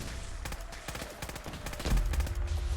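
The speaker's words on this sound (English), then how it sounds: "we are getting shot from all directions" Gunfire in Fallout 4: a clustered volley of sharp shots crackles rapidly and irregularly, some near and some farther off, growing heavier with a deeper thump toward the end.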